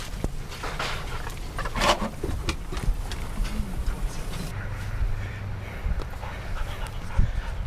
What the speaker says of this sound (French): Tu peux pas manger sans qu'il y ait un chien à côté.